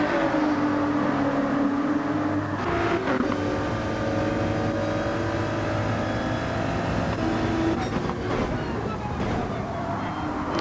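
Racing cars including a McLaren and a Ford through a chicane in a racing video game league, a continuous droning engine roar with shifting pitch and brief surges, with a commentator talking over it.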